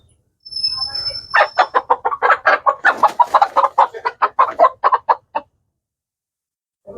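Breeding hens cluck in a quick, loud run of sharp calls, close to the microphone and alone, ending in a brief quiet.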